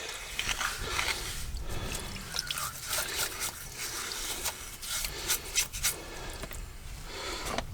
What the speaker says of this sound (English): Just get all the old grease away.